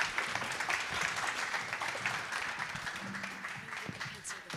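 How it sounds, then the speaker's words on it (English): Conference audience applauding two speakers at a tech leadership event, steady dense clapping that runs throughout, fairly quiet and slightly distant, with a faint voice beneath it. "Everybody, round of applause for these two."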